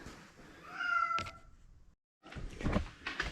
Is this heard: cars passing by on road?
no